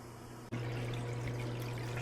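Water begins flowing through a reef aquarium's siphon and return pump, starting suddenly after a brief click, then settling into a steady trickling rush over a constant low pump hum.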